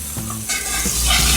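Red chili powder, salt and turmeric fry in hot oil for bhindi masala, a steady sizzle that swells louder halfway through as the spices are stirred, with no talking.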